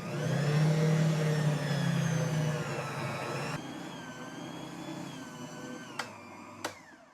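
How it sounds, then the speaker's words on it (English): Stand mixer kneading classic white bread dough for a Pullman loaf, a steady close motor whir with a low rumbling drone that eases off partway through, followed by two sharp clicks. "Now I'm just going to get my mixer going. I'm going to let this mix up and knead."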